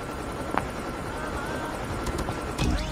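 Steel chopper helicopter in Call of Duty Mobile, a steady rotor drone holding throughout with brief sharp game sound effects layered on top, no voices.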